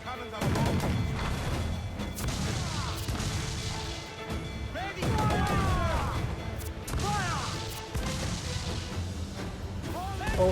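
Booming ship cannon blasts in Assassin's Creed IV: Black Flag, several heavy shots in bursts with crashing impacts, mixed with shouting voices and music over a rumbling backdrop.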